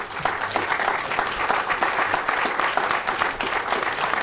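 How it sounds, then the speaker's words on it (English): A university debate audience applauds its panelists, with sustained, loud, dense clapping from a crowd filling the whole stretch without pause. "Let's give them a round of applause."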